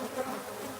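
A swarm of killer bees inside a hive at a library gives off a dense, steady buzzing drone, close and continuous with no talk.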